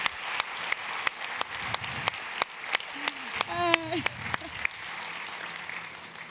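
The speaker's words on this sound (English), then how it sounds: "maybe you can clap your hands. A big applause." Scattered applause inside a large tent city at a science-centre conference opening ceremony, with distinct separate claps rising and thinning out, and a brief high whistle partway through.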